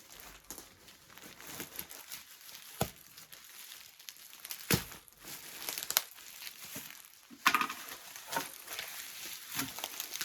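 A plastic parcel bag from a lost-parcel unboxing is opened, giving repeated crinkling and rustling with sharper tearing bursts, close and fairly quiet, with brief pauses between handlings.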